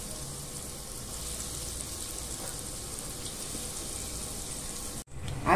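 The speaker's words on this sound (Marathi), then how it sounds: "आता आपण अशा प्रकारे आहेत ना सर्व लॉलीपॉप तळून घेऊया।" Vegetable lollipops deep frying in hot oil, a steady dense sizzle and crackle that holds evenly and then cuts off abruptly near the end, with no voices.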